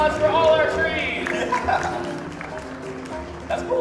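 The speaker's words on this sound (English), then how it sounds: "applause for all our trees" Audience applause at Disney's Animal Kingdom bird show, a short burst of clapping from a crowd that fades quickly under a presenter's talk.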